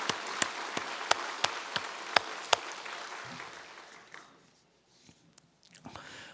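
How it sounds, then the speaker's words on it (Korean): Church congregation claps together during a Korean sermon, a steady burst of rhythmic applause that fades out and leaves a quiet room with a few faint sounds. "한번 박수하십시다."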